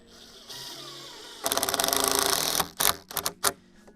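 A power driver whirs in a rapid rattling burst as a screw goes into a corner of a wooden garden bed base board, followed by several short, sharp follow-up pulses.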